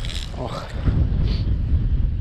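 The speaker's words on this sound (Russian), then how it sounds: "Очень-очень сильный ветер" A strong north wind buffets the microphone on a stormy shore during carp fishing, a rough, gusting roar that swells and holds, with one brief spoken exclamation near the start.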